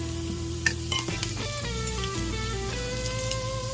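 Garlic sizzles in a hot skillet alongside chorizo, a steady bright frying hiss with crackling pops, layered under tonal background music throughout.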